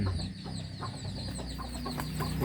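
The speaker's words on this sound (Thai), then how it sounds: "ไก่ชน" Fighting cocks cluck and chatter over a constant broadband noise, with scattered short calls from several birds at a moderate distance.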